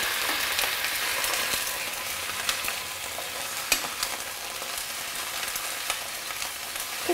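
Broccoli and other vegetables stir-fry for Vietnamese mi xao don, a steady bright sizzle with occasional sharp crackles and pops from the pan, close and continuous throughout with no talking.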